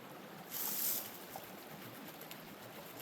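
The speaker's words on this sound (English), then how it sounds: "I'll just get a bit of water in and get the rest of it out." Water sloshes and pours out of a fossicking bucket beside a running creek, a brief louder gush followed by a faint steady trickle and wash.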